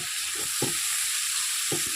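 Green chillies and shrimp fry in a pan with a steady, close sizzling hiss. Soft stirring knocks recur throughout, with no talking.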